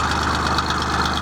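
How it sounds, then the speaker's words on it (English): The Perkins diesel of an Aveling Barford road roller runs steadily at close range with a continuous, even throbbing idle and no talk. "So just giving it a final run up now."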